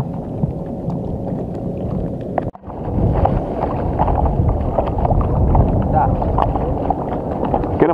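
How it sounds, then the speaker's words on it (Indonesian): Strong wind gusting over a small fishing boat at sea as a whirlwind approaches, a steady loud rushing roar with microphone buffeting and a brief dropout, while people talk over it. "itu anginnya puting beliung. Wih, cuacanya. Anginnya."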